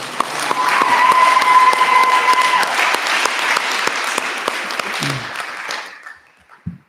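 An academy audience at a senior thesis presentation applauds, a dense steady clatter of clapping that holds for several seconds before tapering off into quiet.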